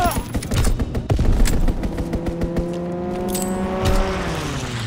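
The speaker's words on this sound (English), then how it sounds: "Strafing run inbound." Dense, rapid strafing-run gunfire rattles through a Call of Duty WWII team deathmatch online match, with overlapping bursts and engine drones running throughout, loud and continuous.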